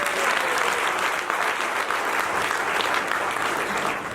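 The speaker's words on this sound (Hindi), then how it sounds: "कानपुर के लिए जोरदार ताली बजाएं" A comedy show crowd gives loud, sustained applause, a dense wash of clapping that holds steady without a break.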